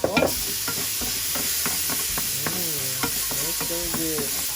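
Ginger, garlic and onion sizzle in a pan with a steady, close frying hiss, broken by a series of scraping stirs and faint background music.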